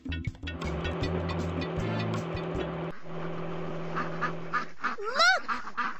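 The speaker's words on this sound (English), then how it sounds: "Look! Baby ducks!" Baby ducks quacking in a Dora the Explorer video game, a chorus of small quacks over bouncy game music, ending with a brief rising cartoon sound effect.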